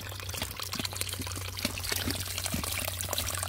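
Spring water pouring steadily from a source in the jungle where cows drink, a continuous close splashing trickle over a low hum.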